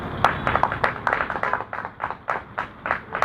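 An audience claps and applauds at a live Hindi poetry performance, a lively run of crisp, fairly regular claps over several seconds with a faint murmur of voices underneath.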